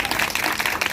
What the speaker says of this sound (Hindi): खुदा के लिए जोरदार ताली बजाएं